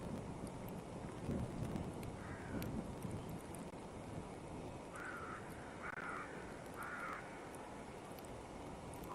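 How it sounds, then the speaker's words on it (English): A crow caws outdoors in the morning, with three distinct harsh calls in the latter half standing out at moderate distance over a steady hiss of rain or wind. "Every time I hear that crow start up in the morning, it is creepy out there."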